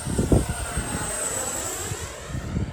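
An H-King Viper64 RC sport jet flying overhead with a steady high-pitched whine and whoosh, moderately loud, with faint low bumps of wind handling at the microphone.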